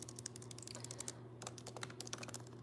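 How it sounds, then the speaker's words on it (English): Rapid, close keyboard typing: a steady stream of crisp clicks and key taps over a low, constant background hum. "You can probably hear my typing."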